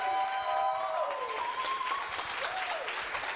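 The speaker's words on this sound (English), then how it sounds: "So let's have a huge round of applause for Stefan" A demo-day crowd at a Montreal coding bootcamp gives a sustained round of clapping, with rising and falling tonal whoops or cheers gliding above the dense applause throughout.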